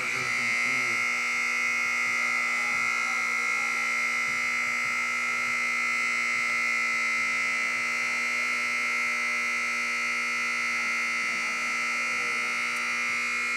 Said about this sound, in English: that alarm is stuck